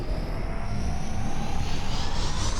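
A spaceship lifting off in SpaceBourne 2 gives a steady, rising engine roar with a broad hiss and a faint climbing whine, loud and continuous throughout with no talking.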